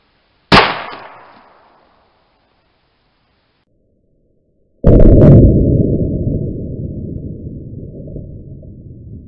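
A .50 caliber PCP air rifle fires a single sharp crack that fades quickly, followed after a pause by a long noisy burst and hiss as a soda bottle is hit at 25 yards.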